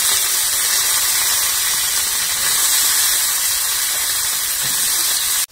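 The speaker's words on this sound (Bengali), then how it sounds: "আর বৌদি তো নাল ভাজতে শুরু করে দিয়েছে" Water lily stalks fry in a pan with chopped onion, garlic and chilli, a loud, steady sizzle and hiss that runs continuously and close before cutting off sharply at the end.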